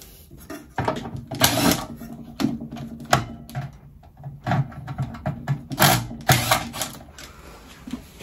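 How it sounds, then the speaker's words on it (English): Screws are removed from the cover of a lathe control box on a Record Power CL4: irregular clicks, taps and small metallic rattles of a hand tool close by, with brief pauses between turns. "So there's three screws in the bottom of this, so we just need to rotate this so we can get these three screws out of the bottom."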